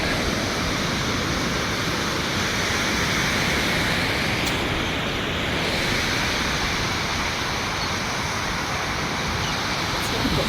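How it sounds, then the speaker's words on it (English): Ocean surf washing steadily onto a beach, a dense continuous roar of breaking waves heard up close with no voices over it. "Sit down a little closer to the surf."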